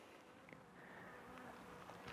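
Honey bees in a hive cluster give off a low, steady buzzing hum, faint and close, with a brief louder buzz of a single bee near the end.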